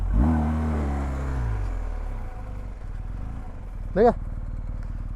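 A BMW R1250GS motorcycle engine rises briefly under throttle, then settles to a steady running note while the bike turns on slippery wet grass on a mountain trail; someone speaks briefly over it.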